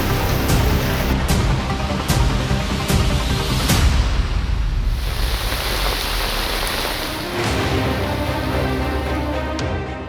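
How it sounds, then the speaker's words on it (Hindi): Heavy monsoon rain pours down nonstop in a dense, loud roar in Kotdwar, Uttarakhand, where a drain is overflowing, with sharp splashes and knocks breaking through now and then. "जब बादल दहाड़ मारकर बरसते हैं तो तस्वीर कुछ ऐसी ही होती है।"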